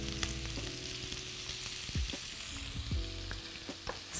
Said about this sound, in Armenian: ընդամենը պետք է մի փոքր թողնենք յուղի մեջ տապակվի